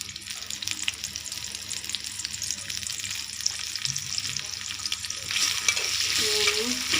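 Two large onions fry in hilsa fish oil, giving a continuous sizzle under occasional stirring, and the sound swells louder toward the end.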